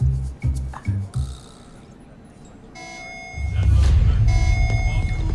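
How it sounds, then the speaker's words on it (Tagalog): After a few brief voices, a steady electronic general alarm tone sounds in a Voltes V Legacy episode, with repeating pulsed beeps over a low rumbling background, fairly loud and continuous. "Alarm na naman. General alarm to."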